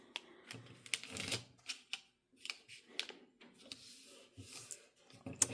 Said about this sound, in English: I'm going to take both of them and fold them back down.